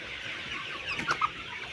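Hybrid and Sonali chickens on a farm give a couple of short clucks over a soft steady background hiss, faint and close.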